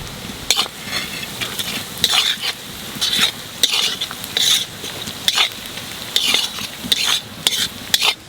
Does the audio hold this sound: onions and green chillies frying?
yes